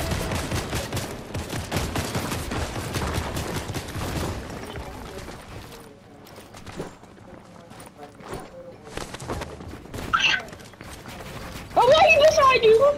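Rapid gunfire from the Fortnite video game crackles in the first few seconds, then thins to scattered shots while players talk over it.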